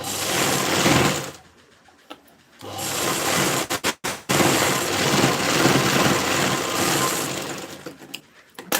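A sewing machine stitches a princess-cut blouse seam in fast, buzzing bursts, running loud and close with brief pauses between runs.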